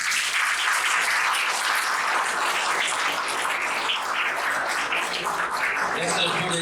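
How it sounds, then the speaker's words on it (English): Steady, dense applause from an audience at a semiconductor lecture event, honoring a speaker who has just been granted a patent, with even, sustained clapping throughout and no break. "So give him a big clap."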